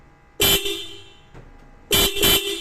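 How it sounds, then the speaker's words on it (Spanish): A car horn honks once, then twice more in quick succession, loud and close, sounded with the vehicle's alarm remote, with quiet surroundings between the blasts. "Como escucharon, la bocina está muy bien"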